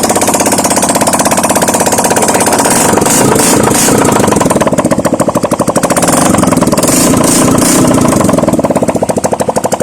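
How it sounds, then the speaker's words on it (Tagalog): A Honda Click 125 scooter engine runs loud with no muffler fitted, a rapid raw popping rattle that holds steady with brief dips in level. "wag mo natin kabit yung muffler guys para marinig nyo ang andar ng ating motor na tinrabaho"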